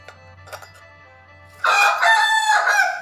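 A rooster crows loudly and close in a rural Thai kitchen setting, one long strained cock-a-doodle-doo following a couple of faint clucks and some quiet background noise.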